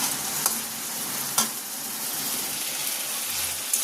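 Spice masala frying in a pan for a vegetarian lentil dish, a continuous close sizzle broken by three sharp scraping strokes of a spoon spread across the stretch.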